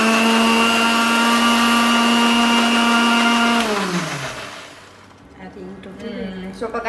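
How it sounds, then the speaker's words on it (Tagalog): A loud blender whirs steadily while blending a sauce, then winds down in pitch as the motor slows, leaving a rumbling, churning noise afterward. "I-blender na niya."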